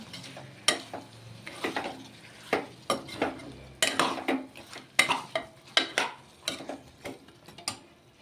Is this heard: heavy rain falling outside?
no